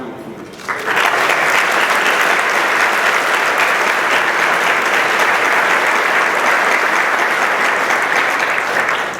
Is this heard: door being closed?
no